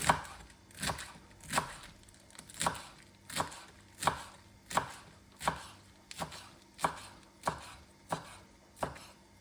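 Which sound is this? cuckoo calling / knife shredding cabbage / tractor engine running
knife shredding cabbage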